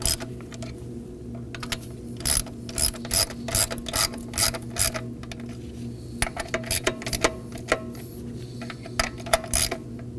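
Hand ratchet clicking in quick bursts while tightening the valve cover bolts on a 2016-2020 Kia Sorento 2.4L four-cylinder engine, sharp close pawl clicks with short pauses between runs and no talking.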